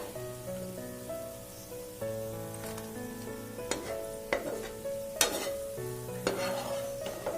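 Onions fry in hot oil for egg biryani, sizzling steadily while a spoon scrapes and clinks against the pan in irregular stirring strokes, close and fairly loud.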